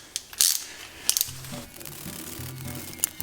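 A ratchet working on the 14mm bolts of the tensioner and idler pulley on a 2005 Mazdaspeed Miata: a few metallic clinks, then rapid close ratcheting clicks in quick runs.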